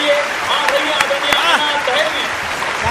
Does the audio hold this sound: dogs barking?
no